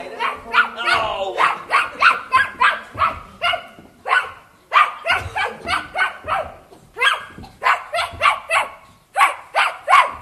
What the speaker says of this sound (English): our all-time favorite guest crooner of the evening, that harmonious hound dog, Fleabag Clyde.